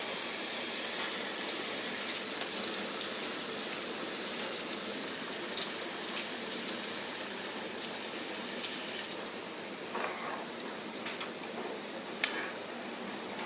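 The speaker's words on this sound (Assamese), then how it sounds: "এতিয়া মই ইয়াত দিম প্ৰয়োজন অনুসৰি পানী" Water poured into rajma curry in a pan makes a soft, continuous splashing hiss, close and fairly quiet, with a few faint clinks near the end.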